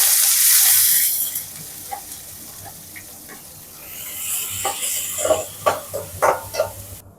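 Onion and green chili hit hot oil that already holds mustard seeds and chana dal for a lemon-rice tempering, giving a loud, steady sizzle. A spoon scrapes and clatters against the pan in short bursts toward the end.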